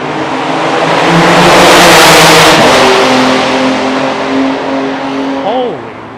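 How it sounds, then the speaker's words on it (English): A very loud motorcycle roars past on a New York City street during a commute, its engine noise swelling and revving before fading, with talking in the background. "Why did that seem louder than any motorcycle I've ever heard?"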